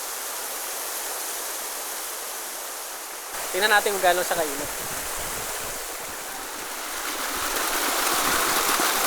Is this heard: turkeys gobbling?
no